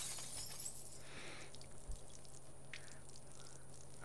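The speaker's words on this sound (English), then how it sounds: "I hope those weren't the toxic chemicals I was just talking about that broke on the floor just now." Glass bottles of toxic chemicals break on a floor in a video game, a quiet crash and shatter followed by faint tinkling and trickling, with no talking.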